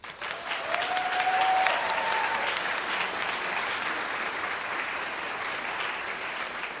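Sustained applause from an audience at a nursing school pinning ceremony, a dense steady patter of clapping filling the room, slightly stronger at first, with a faint whistle early on.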